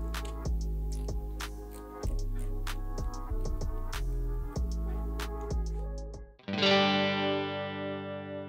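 An electric guitar played through a Zoom G3X multi-effects pedal, with the reverb mix set to 80% over a slightly distorted tone. Rhythmic chord strums repeat, then one sustained chord rings out and fills the space with a wash of reverb.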